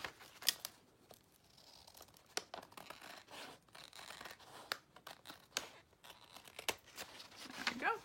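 Scissors snip through paper in a run of short, crisp cuts with rustling between them, quiet and close, ending in a brief crinkle as the page bends.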